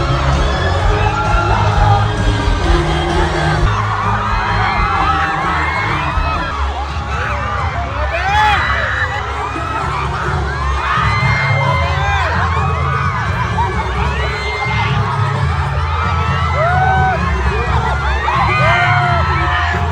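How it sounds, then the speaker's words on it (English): An arena crowd at a concert in Las Vegas screams and cheers loudly and continuously, with many overlapping high-pitched shrieks and whoops rising and falling for the whole stretch. "everyone was screaming, literally all in unison, robotically. Everyone turned to the side with their phones and started screaming"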